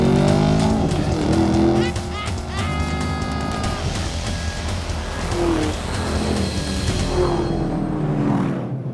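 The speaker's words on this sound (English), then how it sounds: "Too much wheel spin." A Ford Mustang V8 GT revs hard and launches with wheel spin, its engine roaring loudly and tires squealing as it pulls away, then fading at the end, with someone talking over it.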